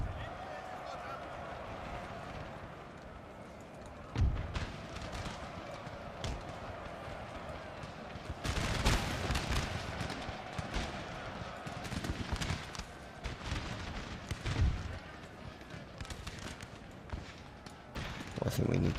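Musket volleys from infantry troops in Napoleon: Total War, crackling in repeated bursts around four, nine and fourteen seconds over steady battlefield ambience, with someone talking throughout.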